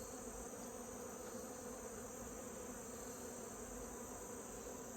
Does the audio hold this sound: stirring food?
no